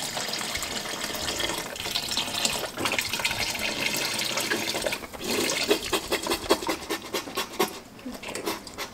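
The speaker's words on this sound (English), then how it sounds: "a little trick to get your chicken broth to pour faster is by taking a little knife and just puncturing a few holes in the bottom" Chicken broth pours from a carton punctured with small holes in its bottom, a continuous splashing, gurgling stream of liquid into a pot that turns choppier toward the end, with no voices.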